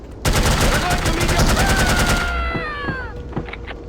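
Rapid submachine gun fire from the video game No One Lives Forever, a dense, loud burst of fast automatic shots lasting about two seconds, then dying into trailing echoes and a few scattered impacts.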